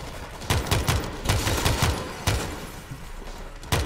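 Rapid bursts of gunfire in the co-op zombie horde shooter World War Z Aftermath: several loud, sharp volleys crackle in quick succession, with short gaps between bursts.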